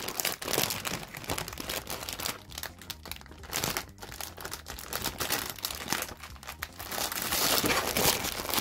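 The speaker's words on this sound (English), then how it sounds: "We're going to open up this packaging first." Plastic packaging of an original Burger King Pokémon toy being torn open, with close, loud crinkling and crumpling in irregular bursts that grow busier toward the end.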